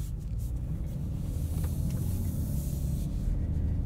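A 2022 Genesis G70 3.3T AWD drives on the road, its low engine and tyre rumble steady and continuous from inside the cabin, with no voices.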